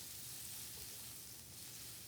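Steady, crackling sizzle of bread for grilled cheese sandwiches frying in butter in a hot pan, soft and close, with no talking.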